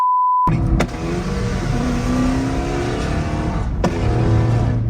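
A Camaro 2SS revs hard from inside the cabin, a loud sustained engine roar after a brief electronic tone, with sharp pops breaking in as the exhaust backfires.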